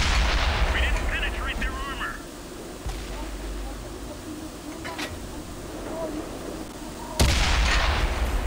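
Tank cannon fire in the video game World of Tanks, several sharp heavy booms spaced a few seconds apart over a low rumbling background, with the loudest blast near the end and faint chatter in between.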